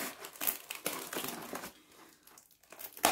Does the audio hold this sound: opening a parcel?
yes